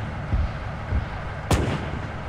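A tank cannon fires in the video game Arma 3, a heavy boom late in the clip after a couple of dull thumps, over a constant rumbling engine background.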